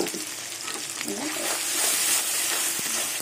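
Paste of poppy seed, mustard, garlic and green chili being sautéed in a pan with fried onion and tomato, giving a steady close sizzle with scraping stirs throughout.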